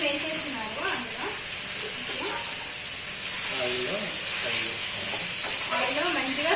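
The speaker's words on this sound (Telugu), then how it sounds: "ఆయిల్లో మంచిగా ఫ్రై చేసుకోవాలి." Half a kilo of chicken frying in oil for biryani, a steady loud hiss and sizzle running throughout, with a person talking over it.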